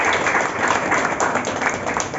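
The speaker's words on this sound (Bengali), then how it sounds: "এদের জন্য সবাই যারা এসেছেন একটা জোরে হাততালি দেওয়া" An audience at a Rabindra–Nazrul evening cultural programme claps in a brief, dense burst of moderately loud applause that holds steady for about two seconds.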